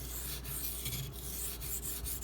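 A Spyderco Delica SG2 steel knife blade is drawn across a sharpening stone in a steady series of close, rasping strokes, with no voices.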